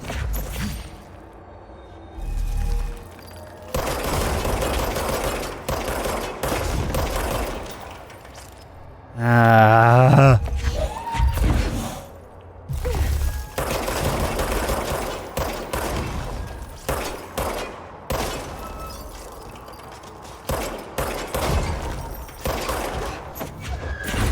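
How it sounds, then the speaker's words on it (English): Gunfire from the video game Control aimed at growths, with bursts of shots scattered across a long stretch of game noise, and a loud, sustained spell of rapid shooting near the middle. "I'm trying to throw as many bullets as quickly as I can at the growths"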